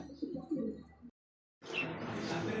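Low pigeon cooing mixes with a busy murmur at a pigeon sale, breaks into a brief silence, then resumes with brighter chirps and bird noise.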